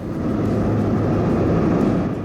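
A steady, loud engine drone and rushing wind noise fill the whole stretch, like sitting inside a small plane in flight.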